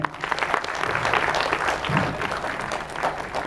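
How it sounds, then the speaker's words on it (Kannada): Audience applauding children after their devotional Ganesha song, a dense, loud wash of clapping that holds steady throughout without a break. "ದಯವಿಟ್ಟು ನಮ್ಮ ಮಕ್ಕಳಿಗೊಂದು ಚಪ್ಪಾಳೆ ಬರಲಿ."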